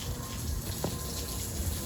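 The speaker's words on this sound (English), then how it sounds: "we're also spray testing the planter box wall and balcony" Water sprayed against a planter box wall and balcony during a building leak test, heard as a steady, continuous hiss and splash close by, alone, with a brief brighter spurt midway.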